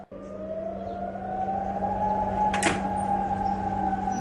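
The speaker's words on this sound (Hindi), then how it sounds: "ये जो आपको शोर सुनाई दे रहा है ये दरअसल खतरे का सायरन है" Warning siren wailing across Qatar during an Iranian drone and missile attack, a steady sustained tone holding loud and continuous throughout, with a brief sharp burst of noise midway.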